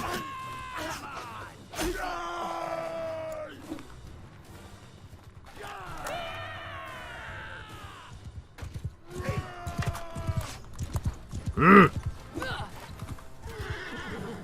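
Cavalry horses in Mount & Blade II: Bannerlord battle, with repeated loud neighs and whinnies over galloping hooves and distant shouting soldiers, one sharp shrill cry standing out near the end.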